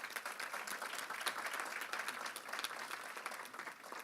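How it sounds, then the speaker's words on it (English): Steady applause from a crowd at a Prince George's County public event, dense overlapping claps sustained throughout at a moderate, even level. "Let's give him a round of applause."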